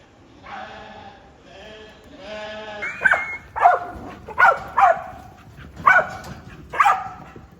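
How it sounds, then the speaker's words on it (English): Sheepdogs herding recently weaned lambs bark in a series of sharp, loud barks at a steady pace, following a run of bleating from the flock at the start. "Dogs are getting them in."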